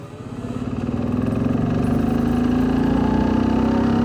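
An MZ ETZ motorcycle engine runs with a steady, throbbing two-stroke drone that swells slightly over the first second, then holds loud and close with no talk.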